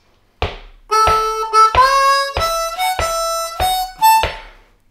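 Harmonica playing a bluesy lick, a run of bright reedy notes in short bursts with brief gaps and bends, loud and close with no other sound.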